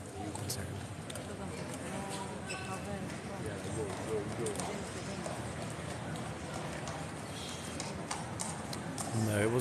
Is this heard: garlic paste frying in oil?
no